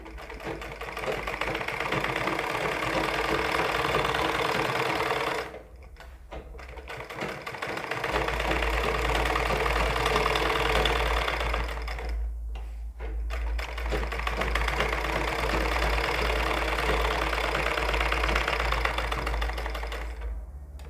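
A sewing machine runs in long continuous bursts, stitching onto green suit fabric for a ladies' suit arm design, with two short pauses between runs; steady, close and loud, no talking.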